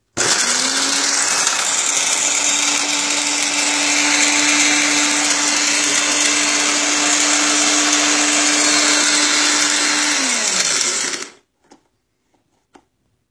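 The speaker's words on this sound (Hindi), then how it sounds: "मैंने उसको चला दूंगा उस ग्राइंडर के अंदर और ये तैयार हो जाएगा" An electric grinder runs loud and steady, milling korma and biryani spice masala with a constant motor whine, then winds down and stops, followed by a few faint clicks and handling sounds.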